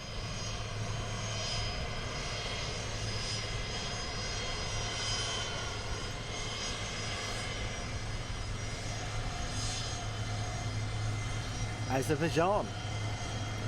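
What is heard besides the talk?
aircraft taxiing at London Luton Airport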